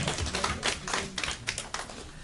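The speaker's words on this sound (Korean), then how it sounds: "우리 하나님께 영광의 박수 올려드립시다." Church youth congregation clapping together in a brief burst, a series of sharp, fairly quiet claps with an uneven rhythm.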